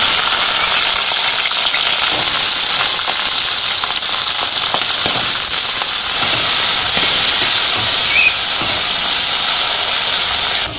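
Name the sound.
green chilies and garlic sizzling as they fry in oil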